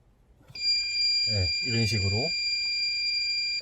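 A steady electronic tone from a circuit tester sounds continuously while a person speaks briefly over it, probing the lower terminal of a fuse while wiring a dashcam in a Hyundai Sonata.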